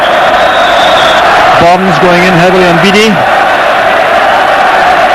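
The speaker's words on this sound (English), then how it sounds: "It's certainly not dampening the enthusiasm of the big crowd inside the stadium." Big football crowd roaring steadily inside Hampden stadium during a rain-soaked Scottish Cup Final, a constant broad wash of noise beneath close commentary, with a brief chant rising near the middle.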